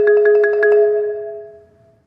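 A marimba roll begins with one hand and the second mallet entering just after, giving a slight rhythmic stumble before quick alternating strokes ring out clearly and the bars decay into a soft fading sustain.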